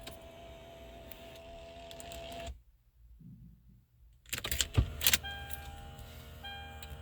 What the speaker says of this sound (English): Shut off the car.